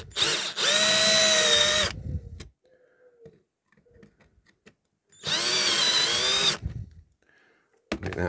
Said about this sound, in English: you don't want a massive big drill bit in there scratching all your base up.